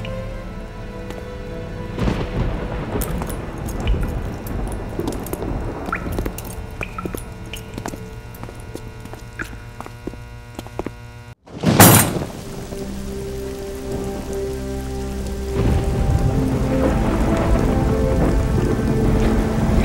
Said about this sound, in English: sure you don't want to wait out the storm?